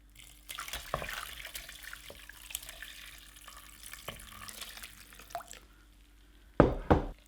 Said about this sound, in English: We're going to separate our curds through the sieve